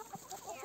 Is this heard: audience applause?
no